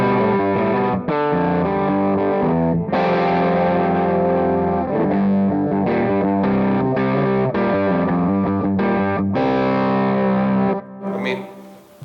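Loud, distorted electric guitar plays Texas blues lines through a cranked amp, sustained and dense throughout, cutting off near the end to a brief quiet tail.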